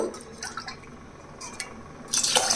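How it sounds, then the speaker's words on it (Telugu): Water poured from a glass into rice and moong dal in a pot for chakkera pongali, short splashy pours and drips heard up close, ending in a louder rushing pour. "ఏ గ్లాస్ తోటి అయితే బియ్యం తీసుకున్నామో అదే గ్లాస్ తోటి నీళ్ళు పోసుకోవాలి"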